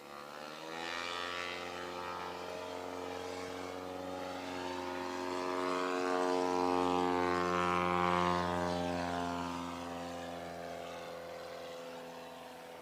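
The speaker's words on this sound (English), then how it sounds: "Eric Massey now in the Carbon Cub. He had an 84-foot first takeoff." A Carbon Cub propeller plane at a STOL competition during the Valdez fly-in and air show, its engine and propeller droning steadily and rising to a louder peak midway before easing slightly, with no voices over it.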